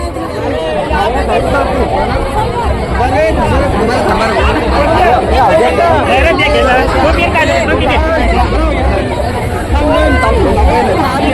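Dense crowd at a village yatra fair in Amali, a thick, steady babble of many voices close around, continuous and loud throughout with no single voice standing out.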